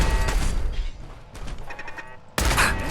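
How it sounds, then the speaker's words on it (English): Turret gunfire in Fallout 4, dense bursts of rapid shots with a loud opening volley, a quieter spell of scattered fire, then another sharp heavy burst near the end. "Oh, I hear a turret."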